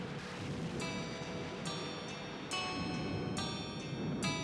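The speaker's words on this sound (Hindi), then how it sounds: "बारिश का मौसम है" Rain falls steadily during the rainy season, a quiet, even hiss of drops on surfaces, with faint tonal chimes recurring in the background.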